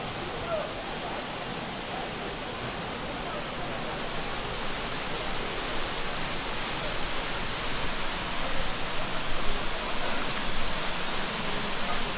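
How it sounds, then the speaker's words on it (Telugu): Rapur waterfall at Sivakona roaring as a dense, steady wash of broadband rushing water, close and loud throughout without pause. "చూడండి వాటర్ ఫాల్స్."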